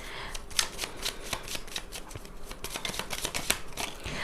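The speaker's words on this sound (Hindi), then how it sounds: "मैं क्लैरिफाई कर लेती हूँ कार्ड्स को" Tarot cards being shuffled by hand, a close, brisk stream of papery riffles and flutters with small snaps, repeating steadily with no talking over it.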